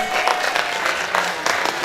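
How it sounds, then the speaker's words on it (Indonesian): Applause for a guest at a large Islamic tabligh akbar gathering at a high school, a dense steady patter of many hands clapping for about two seconds, with voices mixed in. "Tepuk tangan dulu dong buat Bu Galis."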